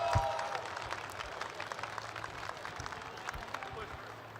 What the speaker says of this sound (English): one more round of applause for everybody on the stage